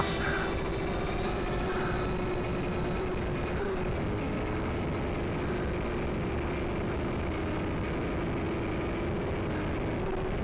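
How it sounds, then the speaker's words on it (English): A DM007 micro quadcopter spy drone with an HD camera flies, giving a loud, steady motor whine with a constant pitch that holds without a break from start to finish, with no talking. "It's actually a cool little quadcopter here. A micro with a HD camera."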